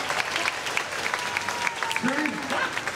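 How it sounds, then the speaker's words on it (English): An audience at a nighttime stunt show at a theme park claps. The applause is lively and scattered, with someone talking over it and a few voices calling out. "Give yourselves one more round of applause."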